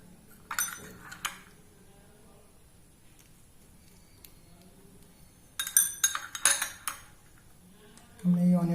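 Chopped onion being added to a sattu drink, heard as a few clinks of a spoon against a glass or bowl, then a quiet pause and another cluster of close metallic taps and clinks.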